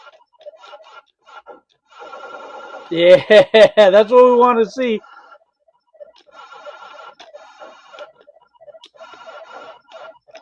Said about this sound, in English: here's Centipede for the Atari 5200. Sounds are arcade perfect because it uses the arcade chip for the sound